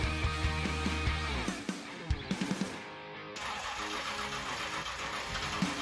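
A freshly built 421 small block engine cranks with rhythmic starter chugs, catches with a few uneven pops, then bursts into a loud, steady running roar, recorded up close with no talking.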